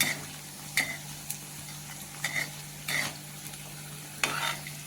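Okra vadas sizzle in hot oil over low heat, a steady quiet frying hiss broken by intermittent scraping and stirring clinks of a utensil in the pan, with no voices.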